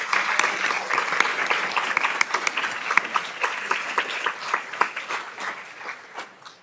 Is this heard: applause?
yes